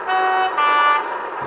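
A horn plays through a homemade speaker enclosure on a model railway layout, giving two loud sustained tones in quick succession, the second slightly higher, followed by a quieter tail.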